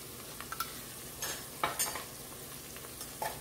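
Onions with ginger-garlic paste frying in ghee in a pan, a soft steady sizzle with several spoon stirs and scrapes scattered through.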